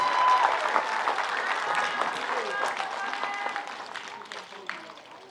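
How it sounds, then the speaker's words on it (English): A crowd claps continuously, loud at first and gradually thinning out toward the end, with a few voices faintly mixed in. "Can we give a round of applause for the Toi Tō class,"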